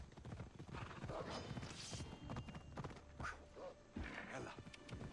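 Horse hooves galloping in Assassin's Creed Odyssey, a fast, continuous clip-clop rhythm of the rider's mount, fairly faint and mixed with ambient game noise.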